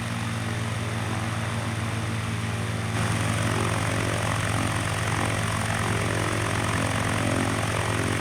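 A propeller aircraft taxis in Microsoft Flight Simulator, a steady droning engine hum with a constant low tone that grows slightly louder and brighter partway through, with no talking.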